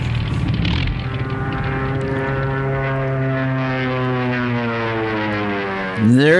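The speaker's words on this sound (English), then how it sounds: "There's Pelosi trying to catch a plane." Propeller aircraft sound effect on a radio show, a steady droning engine with strong harmonic bands that holds evenly, then sweeps and swells louder at the end as if passing close.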